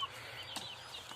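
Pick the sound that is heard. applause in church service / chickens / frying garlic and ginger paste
chickens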